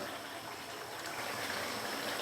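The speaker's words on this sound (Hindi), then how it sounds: "तो अभी मैं इसके अंदर घी और मक्खन दोनों इकट्ठे ही डाल दूंगा।" Ghee and butter go into a pan of beef makhni karahi, giving a steady, fairly loud hissing sizzle that holds evenly for a couple of seconds with no voices.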